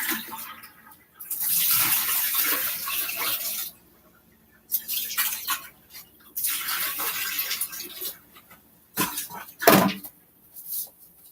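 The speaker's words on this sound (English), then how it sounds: "And dump out water." Water is dumped out in several splashing, pouring bursts with short pauses between them, fairly close and moderately loud, with no talk over it.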